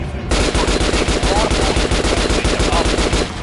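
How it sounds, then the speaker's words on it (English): Rapid, loud automatic gunfire at a shooting range in the video game Metro Last Light, with an unbroken burst of close shots and no talking. "Try shooting for the center of the regular dummy's chest."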